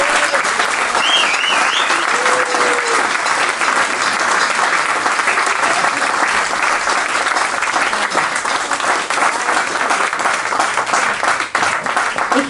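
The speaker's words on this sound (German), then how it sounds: "einen ganz dicken Applaus und herzlichen Dank" An audience at a live band concert gives long, thick, continuous applause. A few whistles ring out early, and the clapping holds strong for over ten seconds.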